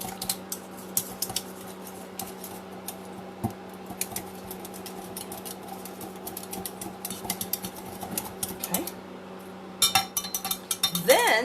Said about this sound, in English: I'm going to stir it with a whisk to kind of break up some of those lumps